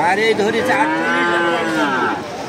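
A heifer calf at a village cattle market lets out one long, loud, drawn-out moo close by, filling the whole moment without talk.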